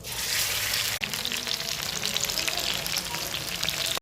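Rested marinated chicken pieces go into hot oil in a pan and sizzle loudly and continuously, a dense close frying crackle with a brief dip near the start.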